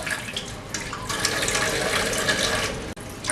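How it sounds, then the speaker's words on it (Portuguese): Tap water runs from a faucet at a low flow while kale leaves are rinsed under it, a steady close splashing hiss that lasts throughout with only a brief dip near the end. "Lavando direitinho, não precisa abrir muito a torneira."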